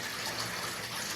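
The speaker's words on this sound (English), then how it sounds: "Just going to fill it up. This is cold water that I'm using" Cold tap water pours steadily into a container, a close, unbroken gushing rush over the short stretch, with no one speaking.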